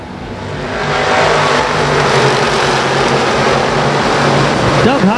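Sportsman race cars roar together at Bridgeport under a steady, loud engine drone in a 20-lap feature, with one car sweeping past near the end.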